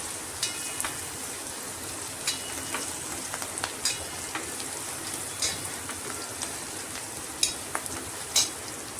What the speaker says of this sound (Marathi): बघा, तुम्ही बघू शकता कांदा आणि मिरची चांगली परतली